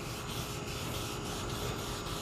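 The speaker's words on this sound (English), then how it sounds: "Make sure you get it all rubbed in nice and even." A shop rag rubbing wood stain onto a farm-style wooden shelf, producing a steady continuous scrubbing hiss with faint rhythmic back-and-forth pulses, close up and with no voices.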